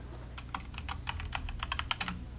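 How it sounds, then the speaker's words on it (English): Rapid, uneven clicking of keys on a computer keyboard, close by, with a low steady hum underneath and no talking. "He's typing a message."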